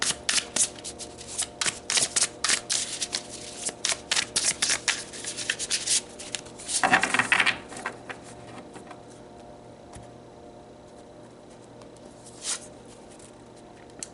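Tarot cards are shuffled by hand in quick bursts of crisp riffling and flicking, dense at first, then a louder flurry midway before trailing off into a few soft taps in a quiet room.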